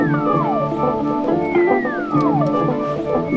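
Synthesizer chords hold steady and loud while two long gliding tones swoop downward, one after another, over a few seconds with no voices.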